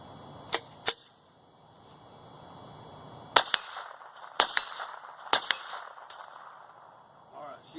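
Henry AR7 survival rifle firing CCI .22 rounds, about eight sharp cracks: a quick pair near the start, then a faster irregular string of shots after a pause, each with a short metallic ring.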